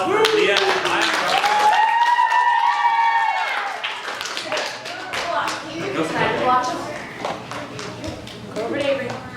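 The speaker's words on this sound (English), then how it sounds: "Everyone give a round of applause for Leah and Maya" Children at a vacation Bible school break into applause amid excited voices and shouts, scattered hand claps growing denser toward the end.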